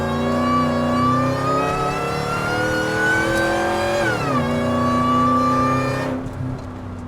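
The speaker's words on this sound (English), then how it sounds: "so I'm gonna test it out in second gear. We'll do a second gear pull." A truck engine (nicknamed Lightning) revs hard through a second-gear pull, its pitch climbing steadily toward the top of the rev range, dipping briefly, then climbing again before cutting off abruptly; loud and close, with no talking.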